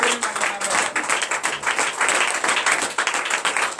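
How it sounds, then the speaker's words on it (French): A church congregation at a night deliverance and prophecy service in Benin bursts into dense, sustained applause and cheering acclamation, loud and continuous throughout, with voices mixed into the clapping. "Frères et sœurs en Christ, donnez l'acclamation à l'Éternel"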